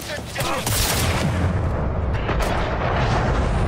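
Heavy gunfire in the video game Cyberpunk 2077: a loud, close, continuous barrage of overlapping shots and booming blasts, with sharper cracks standing out around the middle and near the end.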